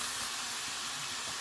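Constant sizzling and crackling of chicken breast frying in a hot pan, a steady close-up hiss with no voices.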